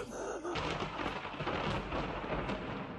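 A thunderstorm rolls overhead, a soft muffled boom of thunder with rain noise in the background, heard fairly faint and without talk.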